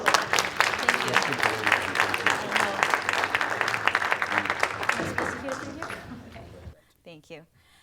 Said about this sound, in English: let's give Kathy a big round of applause